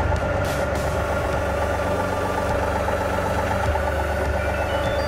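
A John Deere 2038R compact tractor idles nearby with a steady, rough diesel rumble and faint knocking vibration, constant in level throughout with no talk.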